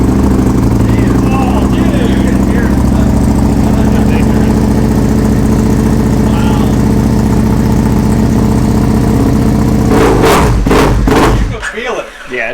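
A supercharged car engine with a blower idles loudly and steadily through its exhaust pipes in a workshop, then blips in a few sharp revs before cutting off, with voices talking over it.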